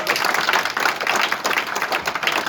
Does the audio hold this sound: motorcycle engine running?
no